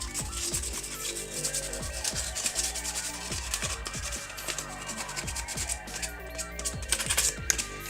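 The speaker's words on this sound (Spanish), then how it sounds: "le damos una lija rápida por todos los lados." Rhythmic back-and-forth scraping of sandpaper on a glossy hard surface, close and steady, with brisk repeated strokes throughout, as it is prepared for hydro dipping.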